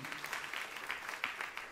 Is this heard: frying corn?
no